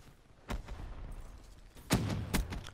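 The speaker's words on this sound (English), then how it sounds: "Grenade! Ah, I was like, whoa, I'm stunned" A stun grenade in Call of Duty: Black Ops III goes off among a few sharp, booming thuds: one early hit, then two heavier blasts close together near the end, over quiet background noise.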